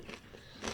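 A crunchy biscuit is bitten, giving a quiet crisp crunch followed by another faint crackling bite, close and alone without talk.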